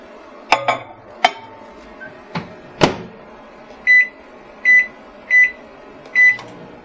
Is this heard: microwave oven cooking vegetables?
yes